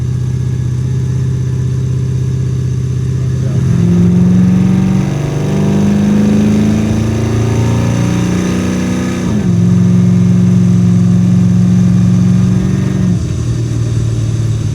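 A Hummer with a swapped Corvette engine and side-exit exhaust runs close by with a smooth, deep burble. It climbs through two revs that rise and fall before it settles back to a steady drone.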